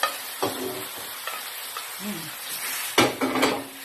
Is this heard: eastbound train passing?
no